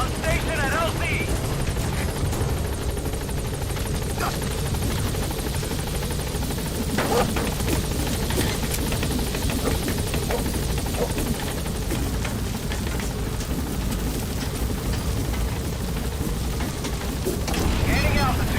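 A helicopter in the Metal Gear Solid V video game lands and takes off, making a continuous, loud rotor thrum and rumble over rain-like noise, while game voices speak over it.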